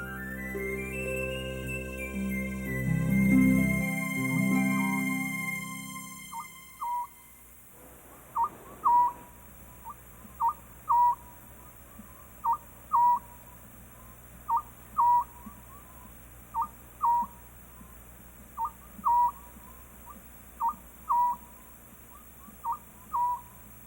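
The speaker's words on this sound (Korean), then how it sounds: "잠을 자다 카메라를 의식한 새끼 소쩍새. 맹금류답게 위협을 해보려 하지만" A young scops owl gives short, soft, high calls, repeated at a steady rhythm every second or so and close by, after an opening stretch of unrelated background music.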